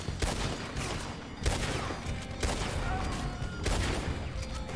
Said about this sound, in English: I need to shoot everyone again.